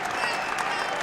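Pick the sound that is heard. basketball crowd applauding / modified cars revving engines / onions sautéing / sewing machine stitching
basketball crowd applauding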